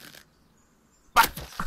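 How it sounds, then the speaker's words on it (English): A bow in the Rust video game looses an arrow: a sharp snapping release bursts out after near silence, then a few short follow-up knocks. "Just shoot it with a bow, because it's funny."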